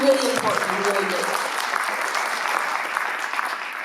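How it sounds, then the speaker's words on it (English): Audience at a Canadian Muslim town hall applauding, a dense, loud wash of steady clapping that goes on throughout, with a voice speaking over the start. "give them a round of applause"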